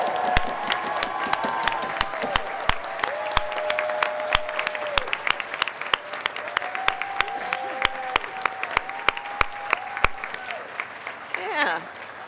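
An audience at a political rally claps steadily for Kansans standing in the room, with sharp hand claps and crowd cheering over several seconds while a speaker's voice carries in the foreground.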